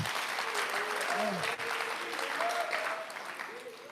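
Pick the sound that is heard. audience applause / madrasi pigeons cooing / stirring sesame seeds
audience applause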